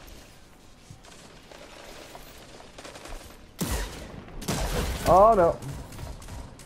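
Gunfire in a Destiny 2 player-versus-player match: a quiet stretch, then sudden loud bursts of shots and clattering weapon noise with a whining effect, close, while a player talks over it.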